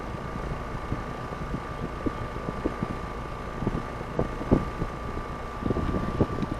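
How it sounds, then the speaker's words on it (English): A Trane air conditioner running outdoors during a refrigerant recharge, a steady mechanical hum with a constant tone, overlaid by wind buffeting and scattered small knocks. "the machine has not even turned off yet"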